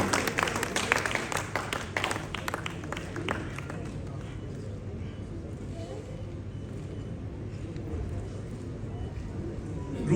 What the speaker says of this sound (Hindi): जोरदार तालियां राजकमल प्रकाशन के लिए